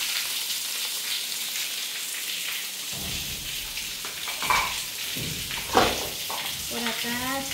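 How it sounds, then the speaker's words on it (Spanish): Celery and onion tipped into a hot pan, setting off a steady sizzle and crackle like rain, with stirring scrapes and a voice talking faintly over it. "Van a echar la verdura. Ajá, aquí está el apio y cebolla."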